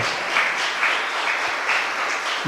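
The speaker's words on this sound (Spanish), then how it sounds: "Dele un aplauso al Señor, hermano." A congregation claps steadily throughout a Spanish-language church service, with dense, continuous applause filling the room and no speech over it.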